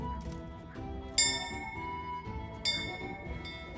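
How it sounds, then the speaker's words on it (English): A tavern bell rung in the game Kingdom Come: Deliverance, two bright metallic strikes about a second and a half apart, each ringing out over a busy background of low music and ambience. "eventually it'll be evening and you find yourself ringing the bell and closing the tavern"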